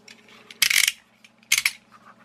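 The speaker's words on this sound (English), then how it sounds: "I'm going to cut this open and see if we can see" A small phone cooling fan is cut open, producing two short bursts of scraping, crunching cutting noise close by, with quieter handling sounds between them.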